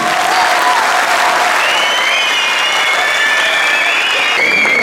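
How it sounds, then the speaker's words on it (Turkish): Audience at an Altınordu municipal gathering applauding the mayor, loud continuous clapping close by with a few voices calling out over it. "Öncelikle belediye başkanımıza bir alkış istiyorum."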